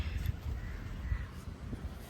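Faint, distant crows caw a few times against a quiet outdoor background.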